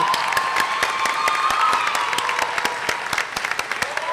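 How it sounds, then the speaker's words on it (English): An audience at an honors ceremony claps continuously after names are read, with individual sharp hand claps standing out close by amid the steady applause and a few cheers. "Now we can applaud and I'll tell you who's who."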